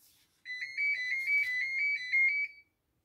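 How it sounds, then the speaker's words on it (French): Phone ringtone playing a quick repeating electronic melody of bright beeping tones for about two seconds, clear and alone in a quiet room. "Je m'excuse, téléphone."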